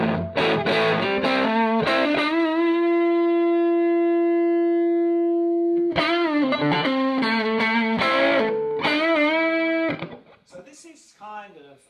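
Electric guitar through a Carr Skylark amp with volume and middle at maximum, bass cut, reverb off, and treble and presence turned low, playing bright plucked notes, a long sustained note, then more picked phrases before fading out.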